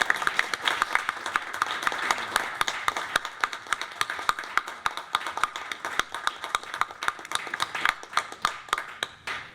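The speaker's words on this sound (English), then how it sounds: "I would ask you all to join me in a round of applause" A round of applause at a township zoning board meeting: a modest room of people clapping with crisp, distinct hand claps, fairly close, keeping up for several seconds with no talking over it.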